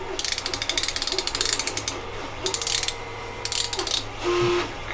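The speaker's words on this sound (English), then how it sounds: "the ratchet is contained inside the fusee" Rapid ratchet clicking from the fusee of a fusee clock as it is turned, coming in close, loud bursts with short pauses between them.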